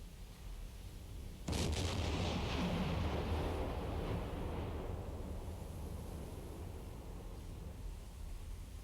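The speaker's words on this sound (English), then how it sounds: "We'll listen on the hydrophone. Go down to 100 feet, just to be safe. And I'm sure we'll hear her sink soon enough." A freighter sinking, heard through a submarine hydrophone in Silent Hunter 4: a sudden deep rumbling burst rises out of quiet hiss, then slowly fades into a washing, surf-like roar.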